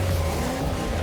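A brand-new Lamborghini sports car engine runs steadily close by, a continuous low throbbing rumble with a faint higher whine, loud and alone without talk.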